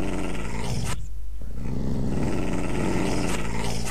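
A wolf in a video game growls and roars loudly and continuously, a dense rough snarl that breaks off briefly and then resumes with full force.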